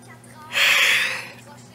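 A woman comedian on a comedy club stage lets out a single exaggerated fake yawn, a breathy drawn-out voiced swell that rises suddenly, holds for under a second and fades, with a voice imitating a real yawn.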